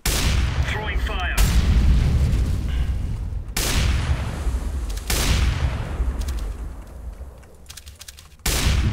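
Decoy grenades in Counter-Strike: Global Offensive fake gunfire with sustained loud bursts of rapid shots and booms, broken by a few short gaps, with no one talking.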